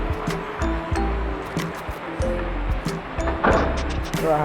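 Rainwater runs through a residential street during the first monsoon downpour, a steady broadband wash of flowing and splashing water close by, with occasional louder gushes and some background voices.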